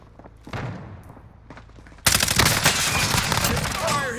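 Automatic and rapid gunfire in Call of Duty bursts loudly into a dense, sustained volley after a quieter stretch of distant shots, with scattered bursts continuing to the end.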